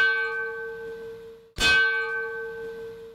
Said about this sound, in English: The bell tolled 12 times to honor the 12 lives taken